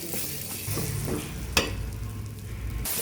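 Kothu parotta with five beaten eggs stirred and sautéed on a hot pan, a steady close sizzle broken by repeated scraping and stirring strokes and one sharp clatter, no voices.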